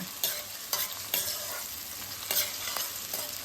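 Onions fry in a pan toward golden brown for a masala paste, with a soft steady sizzle and sharp, repeated spatula scrapes, close and with no voices.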